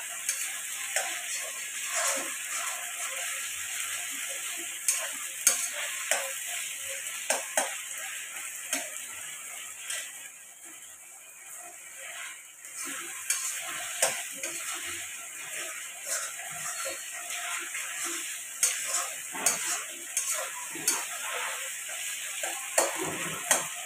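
Vegetable fried rice frying in a pan, a soft steady sizzle with frequent light ticks and scrapes from a stirring spoon, close by and without voices.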